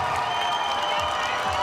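Crowd applause and cheering at the 2018 Pacific Regional race event, a steady, dense wash of clapping and voices that holds evenly throughout at moderate volume.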